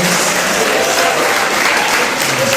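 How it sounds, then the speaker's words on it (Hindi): A hall audience at a children's poetry recital gives strong, continuous applause, loud and even from start to finish with no voices standing out. "जोरदार तालियों से स्वागत कीजिए"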